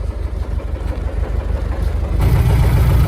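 A heavy diesel tractor engine rumbling nearby at a steady low throb, swelling louder and deeper toward the end as it works harder clearing snow from a winter farm road.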